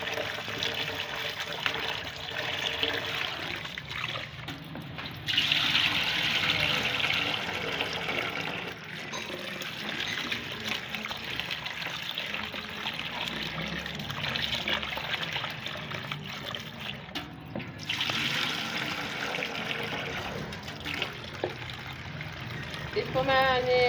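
Mixed lentils including moong daal being rinsed in running water, a continuous close splashing and trickling with brief swells and dips, with someone talking over it.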